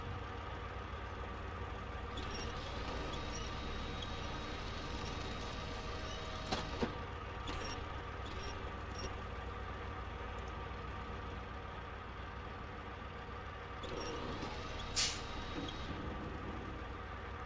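A truck engine idles in SnowRunner, set in the Amur region, as a steady low mechanical drone with a few faint clicks and brief higher accents, no voices.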